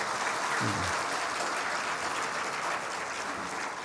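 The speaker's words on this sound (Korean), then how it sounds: "박수 이럴 때 한 번씩 치는 거예요." A church congregation applauds at a Sunday worship service, a steady broadband wash of clapping throughout, with a brief low voice near the start.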